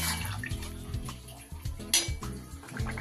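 Water is poured into a simmering potato and fish curry in a pan, a close, continuous splashing pour with some clatter of the pot and utensils.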